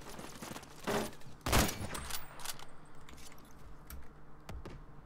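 Video game gunfire on the Mirage map, with rapid bursts of shots fired through a wall, several sharp cracks over a low background with keyboard clicks.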